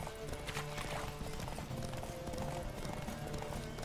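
Roach, a horse in The Witcher 3, gallops steadily through a race, with a quick, rhythmic clip-clop of hooves that stays up close and continuous over a layer of game ambience.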